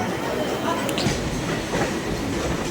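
A moving train rumbles steadily with a rattling, clattering wash of noise on the rails, continuous and fairly loud throughout.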